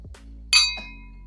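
Drinking glasses clink together once in a toast, a bright, close ringing chink that decays quickly, with a softer second tap just after and a low background hum.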